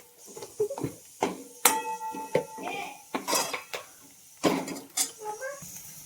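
A metal spoon stirs turmeric and coriander powder into a potato curry in a pot, making clinking, scraping knocks against the pan in an uneven rhythm, close and clear.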